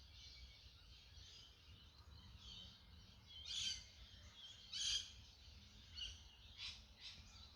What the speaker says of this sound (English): How many different bird calls can you hear?